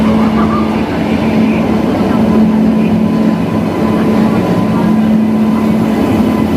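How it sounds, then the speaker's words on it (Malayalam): The Mangala Lakshadweep Express rumbles into a station with a steady, loud, continuous roar and a sustained low tone, close by and unbroken throughout. "ഇതാണ് ഗായ്സ് നമ്മളുടെ ട്രെയിൻ കേട്ടോ"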